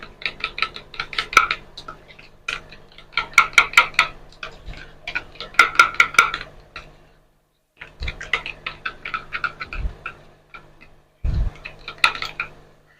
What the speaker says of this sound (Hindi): ये आधा कप हमारे पास दही था, इसको हमने इस तरह फेंट लेना है।